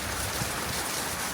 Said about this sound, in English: Rain is starting to come in now